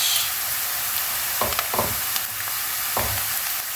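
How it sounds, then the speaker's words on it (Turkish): Two tablespoons of tomato paste sauté in hot oil for a stuffed vine leaf filling, producing a steady close sizzle with a few short scraping spoon strokes. "iki yemek kaşığı salça koyuyorum ve bunu da güzelce kavuruyorum"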